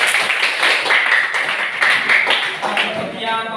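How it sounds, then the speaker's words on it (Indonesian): A classroom gives a round of applause for a classmate, many hands clapping in a quick, dense patter at close range that stays fairly even throughout. "tepuk tangan untuk kawannya"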